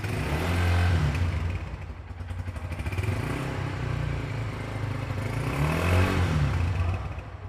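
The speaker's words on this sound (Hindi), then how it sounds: "ये वाला बाइक स्टार्ट करके एग्जॉस्ट नोट सुनाते हैं इसका" A Honda 150 motorcycle idles and revs up close, its loud exhaust note rising and falling in three throttle blips over a steady thumping engine rumble, without speech.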